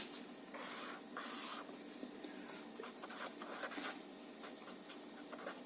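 Pen or marker scratching across a surface while a reaction-order graph is sketched, with steady rubbing strokes and short bursts of scribbling up close, no talk.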